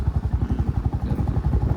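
A Royal Enfield Bullet motorcycle engine thumping along on a road trip in Gujarat, a steady low, rapid pulsing beat with a loud, close and even rhythm and a faint clatter on top, no voices.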